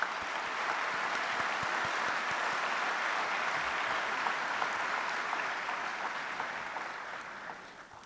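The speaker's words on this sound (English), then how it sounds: "Can you please give me a hand of applause?" A large audience at the formal opening ceremony of the 2018 Annual Meetings applauds in a broad, even wash of clapping that holds steady, then gradually fades toward the end.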